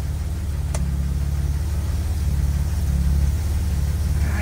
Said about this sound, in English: I hear a little engine flutter.